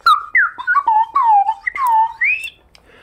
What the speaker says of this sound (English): I play the slide whistle on the street for the money.